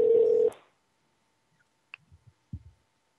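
A telephone call being placed: a steady dial tone cuts off, then a few faint, sparse clicks and soft blips follow in the near-silence.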